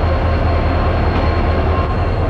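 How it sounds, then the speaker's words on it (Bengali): The Tamralipta Express (Howrah to Digha, 12857) arriving at a Howrah station platform, with a loud, steady rumble of railcars rolling past close by. "তো বলতে আমাদের ট্রেন কিন্তু চলে এসছে।"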